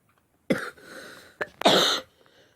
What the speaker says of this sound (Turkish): şu öksürük beni kızdırmaya başladı